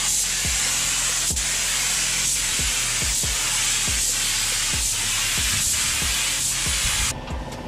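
Spray gun painting an 18 ft boat in a backyard homemade spray booth: a steady, loud continuous hiss of atomised paint runs throughout, with repeated low thumps and pulses of a compressor or pump beneath it, ending in a brief change of tone.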